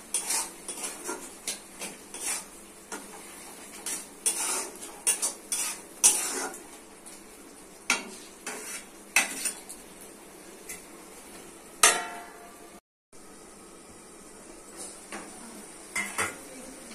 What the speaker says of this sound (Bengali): মশলাগুলোকে টমেটোর সাথে একসাথে মিক্স করে দিতে হবে।